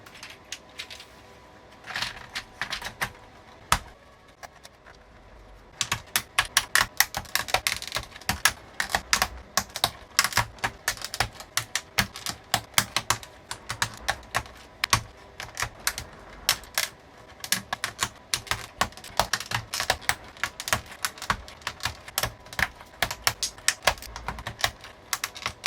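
Typing on a 27-year-old IBM KB-9828 keyboard, a close, rapid run of crisp clacking keystrokes in uneven bursts with short pauses, loud and alone without talk.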